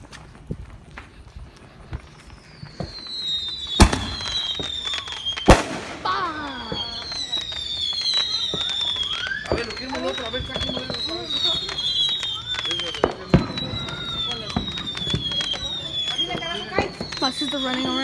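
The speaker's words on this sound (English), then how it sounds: "all these fireworks we just used" Fourth of July fireworks whistle upward and burst with a couple of loud sharp bangs, crackling pops scattered throughout, while people shout and talk excitedly nearby.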